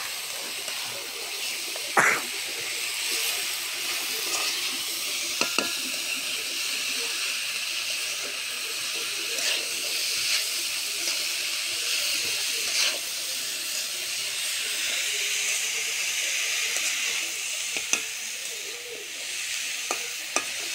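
Potatoes fry in a hot pan for an egg and potato curry, giving a steady, loud sizzle and hiss throughout, with occasional stirring knocks of a utensil against the pan.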